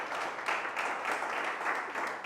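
A church congregation claps together in a dense, continuous wash of applause that swells and dips slightly, with no voices standing out.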